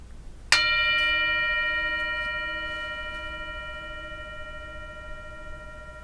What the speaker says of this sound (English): I'm going to ring the bell, and I'm going to ask you to listen carefully.